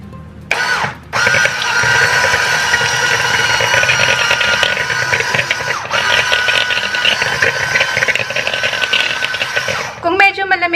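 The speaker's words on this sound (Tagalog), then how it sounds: "So, gagamit lang ako ng hand mixer." A handheld electric mixer whirs steadily while beating butter until creamy for cheese bars, a loud continuous motor whine with a brief pause near the start and a stop just before the end.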